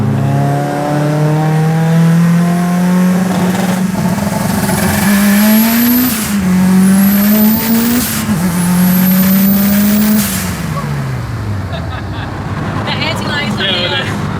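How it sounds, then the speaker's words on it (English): A Mitsubishi Evo VIII with 808 hp and 47 psi of boost on a street pull, its loud engine climbing in pitch through the gears. Rolling anti-lag adds crackles and pops, and people talk over the roar. "Normally, like, you're using AntiLag to spool like some huge turbos. AntiLag on a 62, it literally kicks you in the chest."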